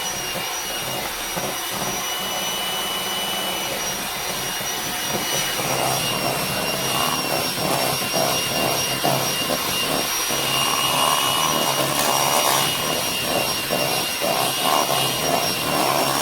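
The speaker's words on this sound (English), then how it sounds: "I'm going to whisk after each egg that I put in." Electric whisk beating eggs into butter and sugar for a cherry cake batter, a loud continuous motor whine with rhythmic beater rattling against the bowl, no speech.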